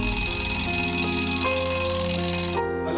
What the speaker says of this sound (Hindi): अब मेरी सुबह होती है 6:30 बजे अलेक्सा के अलार्म से